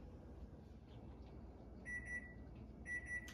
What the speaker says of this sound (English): I hear the timer